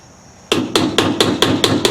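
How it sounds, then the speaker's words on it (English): Hammer blows on a hard plastic part of a GE washing machine, seven sharp strikes in a steady rhythm after a short quiet start, loud and close. "Bigger hammer."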